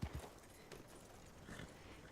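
Horse hooves clip-clopping in the Goldrush RP video game: a few faint, distant hoof clops at the start, then quiet background.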